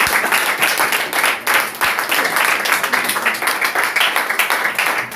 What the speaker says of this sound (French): Applaudissez encore pour le frère.